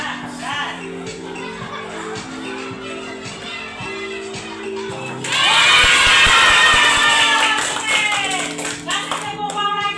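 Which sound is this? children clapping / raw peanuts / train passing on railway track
children clapping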